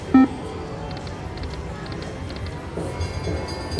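Train sound effect from the Iron Horse Wild West slot machine game: a brief chime opens, then a steady rolling rail rumble with faint repeating clicks and a light whistle-like tone, moderately loud with no talk.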